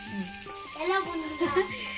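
Potatoes frying in oil sizzle steadily at close range beneath a voice talking over the pan.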